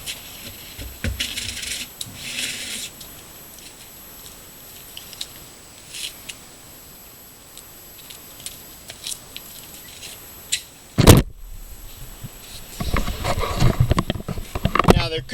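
A rear tire is pulled off a rusted 2009 Dodge Grand Caravan during a brake caliber job, with scattered metallic clinks and scrapes, a loud clunk partway through, then rough rubbing and shuffling close by.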